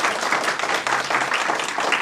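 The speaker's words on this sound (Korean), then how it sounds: "박수 맞아주시죠" Steady, dense audience clapping at a radio station award ceremony, loud and continuous throughout with no break.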